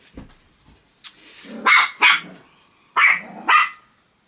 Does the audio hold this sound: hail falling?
no